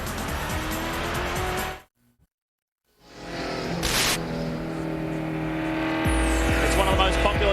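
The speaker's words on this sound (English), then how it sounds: "These beautiful twin-turbo RS6s are flying up front for champion." Twin-turbo Audi RS6 race cars roar past at speed on the Mid-Ohio circuit in a 2004 World Challenge GT race, loud engine noise with tire squeal, cutting out briefly before more cars scream by.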